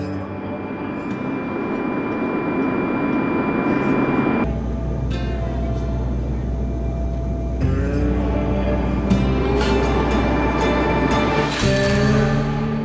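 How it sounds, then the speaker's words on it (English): Steady airport ambience with a loud, continuous jet aircraft engine roar, plus shifting tones and a few brief clatters, close and dense throughout. "I'm here in the airport for the first time."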